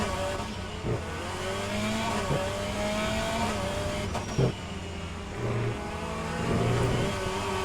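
Race car engine in an rFactor 2 race replay, droning steadily near and loud, with pitch climbing and dropping through gear changes and a few brief shifts.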